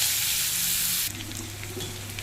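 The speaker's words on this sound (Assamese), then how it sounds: "এতিয়া মাছ ভজা তেলত মই পিঁয়াজ দি দিম" Sliced onions sizzle loudly in hot oil left from frying fish, a dense close hiss that drops sharply after about a second to a quieter crackle.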